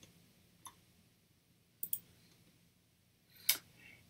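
Mouse clicks while editing a layer mask in Photoshop, three sharp clicks at separate moments, the middle one a quick double click, faint and close against a quiet room hiss.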